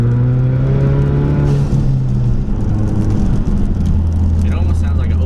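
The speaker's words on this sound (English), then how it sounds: "Little snap, crackle, pop." An EcoBoost Mustang with a muffler delete and catless downpipe runs loud and close, its exhaust droning as revs fall and then settle. Faint crackles can be heard, and people talk over the engine.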